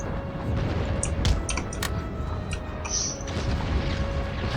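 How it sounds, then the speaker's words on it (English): Cannon fire booms across a battlefield in the video game Empire: Total War, with repeated heavy blasts over a steady rumbling din and no talking. "they've really been whittled down with cannon fire"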